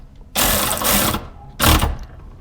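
A ratchet tightens bolts near the hood of a Toyota RAV4 Prime, heard as two loud, close bursts of rapid mechanical clicking separated by a short pause.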